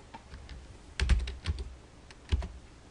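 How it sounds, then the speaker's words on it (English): Search words typed on a computer keyboard, a few light key taps followed by two tight clusters of louder clicks, close and dry, with no voice. "type the search words into the Additional Terms box"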